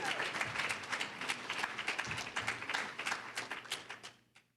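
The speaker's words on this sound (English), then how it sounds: "How about a round of applause for that?" Audience at an academy's annual student awards and donor recognition event giving a round of applause: steady, lively clapping from a seated crowd that tapers off and stops toward the end.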